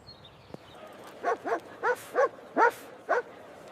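A puppy gives six quick yips and barks in a steady series after a faint click, fairly close and clear with little background noise.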